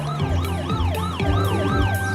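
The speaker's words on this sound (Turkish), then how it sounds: "Bakın ambulans ne kadar hızlı gidiyor. Diğer araçlar ona yol veriyor." A cartoon ambulance siren wails loudly and steadily in a fast rising-and-falling sweep that repeats several times, with no voices over it.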